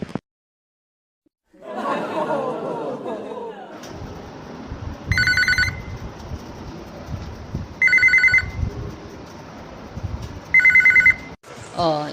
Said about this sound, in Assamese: কোনেনো ইমান ফোন মাৰি আছে?